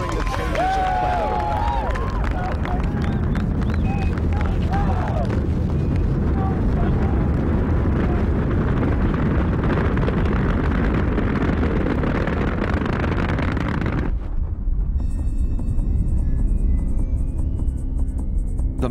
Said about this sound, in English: main engine start, 5, 4, 3, 2, 1, 0, and liftoff of the space shuttle Endeavour